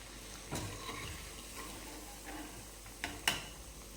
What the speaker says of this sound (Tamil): எண்ணெய் காஞ்சதும் நம்ம வடை தட்டி போட்டுடலாம்